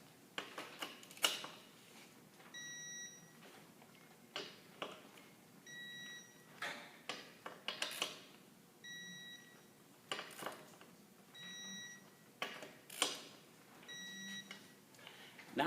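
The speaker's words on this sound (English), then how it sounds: "Not only does it make it an audible alarm sound on it" A digital torque wrench alarm beeps in short bursts about every three seconds, repeated five times, amid clicking and ratcheting sounds while lug nuts are tightened.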